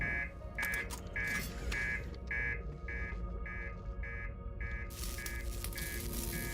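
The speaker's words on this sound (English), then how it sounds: "your master alarm's going off because the reactor's damaged" A master alarm blares from a damaged spaceship reactor in Outer Wilds, a loud electronic buzzer pulsing in steady, evenly spaced beeps about twice a second over a dense rumbling background, with no voices.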